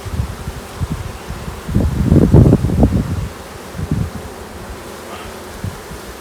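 Honeybees buzz around opened beehives during a spring inspection, a close, wavering drone that swells loudest midway and then thins out, with rustling and light wind outdoors and no talk.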